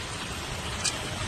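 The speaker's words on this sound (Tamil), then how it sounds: "எப்படியும் மழை பெய்யுது பாருங்களேன்" Heavy rain falls in Chennai, a dense, steady hiss of drops close by with no pauses and one faint higher tick partway through.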